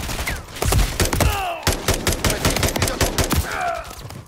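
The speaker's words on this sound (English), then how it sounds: "Return fire!" Dense gunfire in Modern Warfare 3 as Makarov's attackers hit Verdansk; overlapping rifle shots crack in a continuous close volley, with brief whooshing and groaning effects mixed in.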